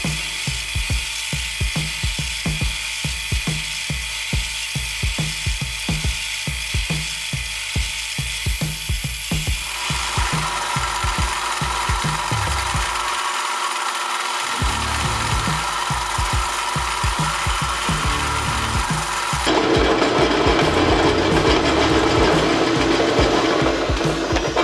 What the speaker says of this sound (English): Got some filing to do because that's as far as it'll go so far.